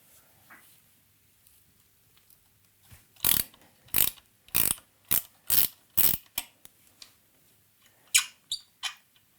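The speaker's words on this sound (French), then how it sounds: "on va se munir de notre clé de 12 et on va pouvoir tout simplement desserrer le coulisseau" A 12 mm ratchet wrench loosening a bicycle fork slider gives a series of about six sharp, close ratcheting bursts at a steady pace, then a few quicker clicks after a pause, with no talk.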